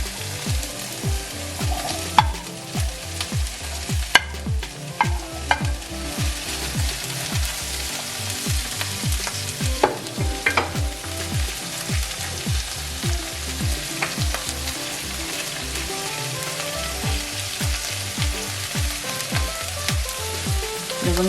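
Sliced onions and green chillies frying in a pan for mutton poriyal, with a dense, loud crackling sizzle and a quick rhythmic patter of stirring that runs steadily throughout.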